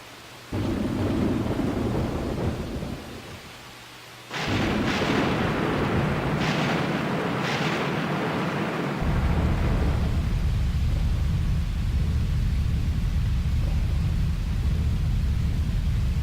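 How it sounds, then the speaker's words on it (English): Thunderstorm in the video game Grandia 2, with loud deep rumbling, a brief drop, then sharp cracking thunder bursts, then continuous heavy low roar with no voices. "Yet the storm and rumblings only grew worse."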